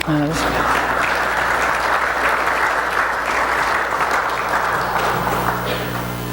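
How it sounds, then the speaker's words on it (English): Church congregation applauding after a sermon, a loud, dense wall of clapping that holds steady throughout, with a low sustained tone beneath it. "Yeah, you can clap for that."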